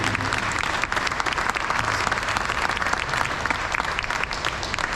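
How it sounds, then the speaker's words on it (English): A crowd at the Pacific Airshow 2023 opening ceremony claps steadily and continuously, a dense patter of applause that holds at an even level throughout. "Please give them a round of applause."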